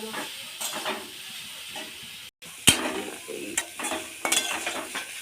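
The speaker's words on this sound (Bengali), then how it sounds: "এটা ভালো করে ভেজে নিয়েছি" Carrots fry in a very hot pan with a steady sizzle and hiss, broken by scraping stirs and clattering strokes of a spoon, close up with no one talking.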